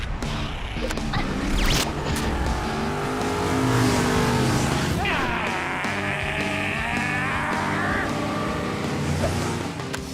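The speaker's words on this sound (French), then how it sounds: "La plus grande course-poursuite de toute l'histoire de Hot Wheels City vient de commencer!" Animated Hot Wheels City racing cars tear through a chase, engines roaring and revving loudly throughout with a rising, whining acceleration midway.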